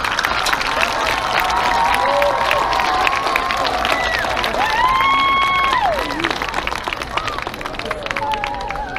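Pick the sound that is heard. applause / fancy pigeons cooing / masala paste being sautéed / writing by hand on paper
applause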